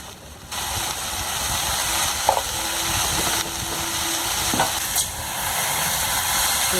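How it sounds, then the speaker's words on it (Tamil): Drumstick leaves sautéing with turmeric in a pan give a soft steady sizzle, with a few light clicks and utensil scrapes and no talk. "மஞ்சத்தூள் போட்டு நல்லா கொஞ்சம் நேரம் வதக்குங்க."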